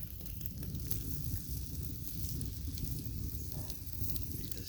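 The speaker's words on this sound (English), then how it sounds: "I love an early morning campfire." Early morning campfire at a backpacking camp, crackling and sizzling steadily with a broad hiss and scattered sharp pops, close and continuous with no talking.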